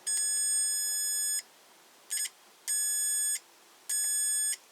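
A multimeter in continuity mode gives repeated high electronic beeps as its two probes are shorted together, with four tones of varying length separated by short gaps, clear and close against a quiet background.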